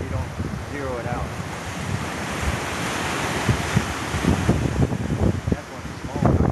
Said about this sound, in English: It's a windy day, you know.